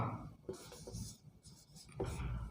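Chalk or marker scratching across a classroom board during a lesson, quiet close strokes in short bursts with brief pauses between them, no talking.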